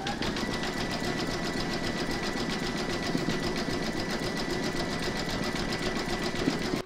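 An embroidery sewing machine stitching a zigzag round across joins on a hooped quilted placemat: a fast, steady mechanical needle rattle with a constant motor hum, close and uninterrupted throughout.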